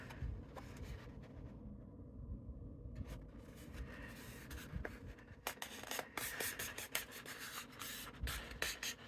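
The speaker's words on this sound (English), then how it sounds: "this paper's a little tougher to score." Tough craft paper is scored along a plastic template for a cracker-topped gift box, giving quiet dry scraping and rubbing strokes with soft taps. The strokes grow more frequent and scratchy in the second half, close and faint with no talk.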